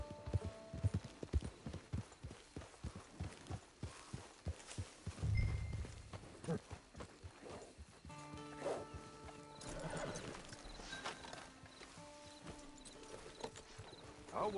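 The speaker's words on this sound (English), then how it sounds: "Get your horse." Horse hooves walking in Red Dead Redemption 2, a steady clip-clop of close hoofbeats, followed by a neigh and ambient game music with soft tonal notes, no speech.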